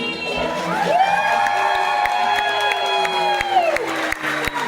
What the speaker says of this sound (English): I want to hear one more huge round of applause for Trisha and Sammy.